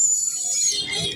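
A brown lory parrot gives a brief, high, squeaky call at close range, with a shorter softer chirp following.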